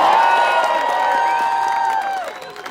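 A crowd of young people and parents at an Ottawa protest raises voices together in sustained cheering and shouting, close and fairly loud, fading slightly at the end.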